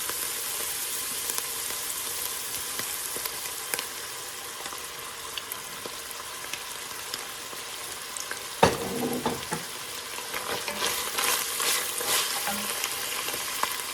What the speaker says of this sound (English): so now let's put in a couple of tablespoons of olive oil.